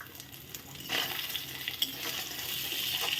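Bori lentil dumplings fry in a pan while ginger paste is added, giving a steady close sizzle with soft stirring and scraping sounds throughout.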